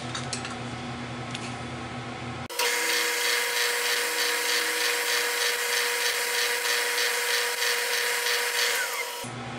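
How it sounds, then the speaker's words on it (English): A steady, harsh grinding of a drill working metal on a pocket valve engine's cam cover starts abruptly after a quieter stretch and continues evenly for several seconds before cutting off. "Alright, let's tap this. Finish drilling."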